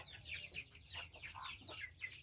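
Chicks peeping near weeds and fruiting plants outdoors, several quick high chirps over about two seconds, faint and a little distant, with no talking.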